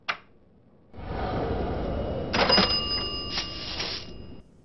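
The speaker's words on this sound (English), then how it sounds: "we've got a cash register. Ka-ching, baby!" A cash register ka-ching from the mobile game The Simpsons: Tapped Out, a short chiming ring over a busy mechanical rattle that swells midway and then fades, with no talk.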